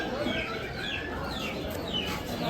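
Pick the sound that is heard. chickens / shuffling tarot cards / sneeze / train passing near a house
chickens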